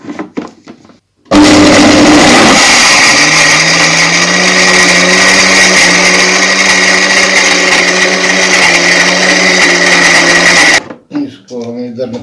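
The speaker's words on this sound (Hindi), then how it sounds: "बाकी चीज़ें हम ये सारी चीज़ें मिक्स करके हम इसको ग्राइंड कर लेते हैं।" An electric grinder whirs steadily as it grinds a mix of ingredients for a herbal powder. The motor whine starts abruptly, holds loud and even for about nine seconds, then cuts off, with brief talk before and after.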